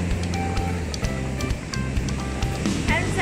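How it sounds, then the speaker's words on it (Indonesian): Strong surf at Sendiki beach in South Malang rumbles and washes steadily close by, a loud, continuous roar of waves with wind noise and some background sound mixed in. "Kalian bisa lihat ombaknya kenceng banget"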